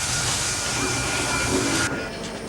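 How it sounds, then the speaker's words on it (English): The runaway subway train effect on a 1991 Universal Studios Hollywood studio tour gives off a loud, broad rushing hiss like escaping steam and rumbling rail noise, sustained and close before cutting down sharply near the end. "Up ahead, runaway subway."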